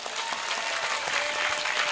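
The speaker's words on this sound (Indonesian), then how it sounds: "Tepuk tangan dulu dong." Audience clapping steadily through a religious lecture, a dense, continuous wash of applause from a gathered crowd with no voices over it.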